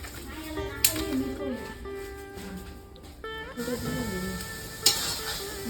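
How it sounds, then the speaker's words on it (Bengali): Fish curry with spices fries in a home kitchen pan while being stirred, giving a soft sizzle beneath a woman's chatter, with two sharp metallic clinks of a utensil striking the pan. "এখন আমি মাছ রান্না করতেছি, মাছের ঝোলটা রান্না করবো।"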